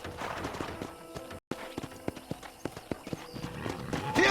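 A horse's hooves clip-clop in a brisk walking rhythm across a ranch in the video game Red Dead Redemption, the hoofbeats close and distinct with a brief whinny near the end.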